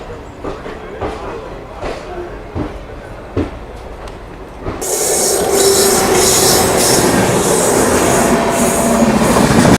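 The Chetak Express train pulls into Chittorgarh junction with loud, sustained screeching wheels and a heavy rumble of rolling carriages. Quieter clicks and station noise lead in before the squeal swells and holds steady.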